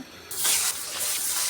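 Remaining katla fish pieces dropped into hot oil: after a brief quiet moment, a sudden loud sizzling hiss bursts up and holds steady, crackling close by, with no voices.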